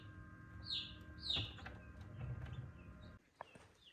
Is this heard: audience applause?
no